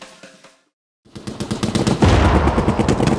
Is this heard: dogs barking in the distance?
no